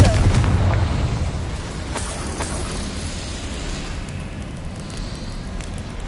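A Confringo fire spell explodes in Hogwarts Legacy, a loud burst that rumbles and hisses, then fades into a long, dense roar of fiery noise that lasts throughout.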